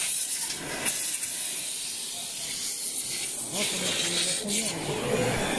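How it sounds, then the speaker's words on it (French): A Lady Vap steam cleaner releases a steady, loud hiss of steam that holds without a break, with faint mechanical rumble underneath. "Alors on envoie la vapeur."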